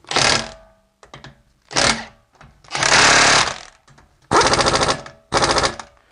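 An impact wrench re-torques lug bolts through torque sticks in five loud, close, rattling hammer bursts, each lasting from half a second to about a second and a half, separated by short quiet gaps.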